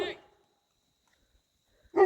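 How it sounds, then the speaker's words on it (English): Dogs playing outdoors on a farm give two short barks, one at the start and one at the end, with a quiet pause between them. "we got the dogs over there playing, enjoying the day"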